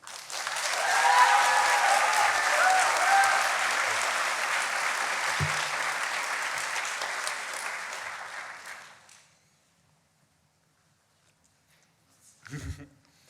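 Audience applause welcoming a speaker at a midyear completion celebration, a loud sustained ovation of many clapping hands that swells, holds for several seconds, then fades to silence before a short final burst.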